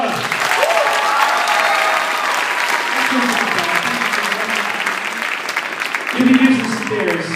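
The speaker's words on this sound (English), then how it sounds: "Big round of applause for Bella." An audience at a percussion showcase applauds Bella in a lively, steady burst of clapping with cheers and voices mixed in, and a louder shout rising near the end.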